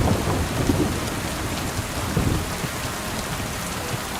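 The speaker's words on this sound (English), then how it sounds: "There's dark and there's rain." Kingdom Come Deliverance 2 plays a constant downpour of rain with deep thunder rolling in the background, loudest at the start and then holding an even, dense wash.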